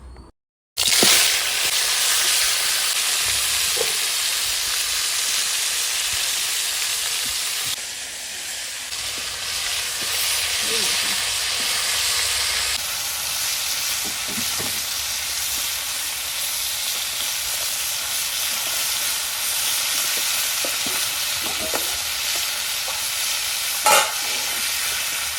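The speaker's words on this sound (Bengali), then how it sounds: "মাছের মাথাটা ভেজে নিচ্ছি।" A katla fish head rubbed with salt and turmeric fries in hot oil, giving a continuous close hiss and sizzle for about 25 seconds with faint crackles and a brief pop near the end. No speech.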